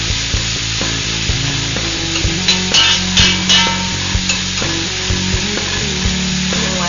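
Onions and peppers browning in a hot pan for cioppino, a loud continuous sizzle broken by scraping and knocking of a utensil against the pan.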